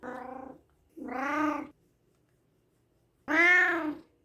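A cat meows three times indoors, each call drawn-out and clear, the first two close together and the third after a pause, heard alone with no talk.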